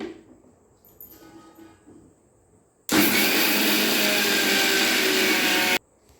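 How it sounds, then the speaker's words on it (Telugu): A mixer grinder grinding dosa batter, a loud steady motor whir that starts abruptly, runs for about three seconds and then stops, after some quiet handling sounds. "మిక్సీ అనేది ఫాస్ట్ పెట్టద్దండి, మధ్య రకం పెట్టుకొని"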